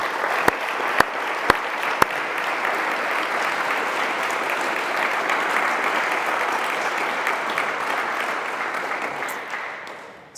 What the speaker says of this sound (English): please would you all join me in a round of applause to thank the incredible fundraisers